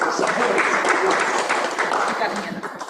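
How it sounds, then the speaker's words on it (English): Colleagues at a real estate team meeting give a short round of clapping, a busy, moderately loud patter from a room full of people, with voices mixed in. "Give that a little clap"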